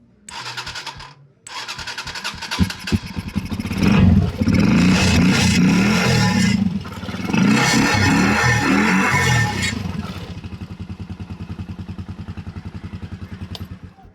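A small engine fires up after an ignition coil repair, cranking briefly, then catching and revving loudly in surges before settling into a steady, close idle.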